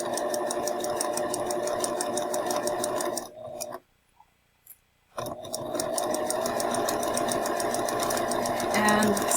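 A sewing machine stitches a dart in fabric with a rapid, even mechanical whir, stopping for about two seconds of near silence before starting up again; close and clear, with no talk over it.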